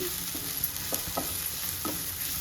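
Tomato masala with coriander powder being stirred in a hot pan, sizzling steadily with a few distinct scrapes of the spoon, close up and without talk.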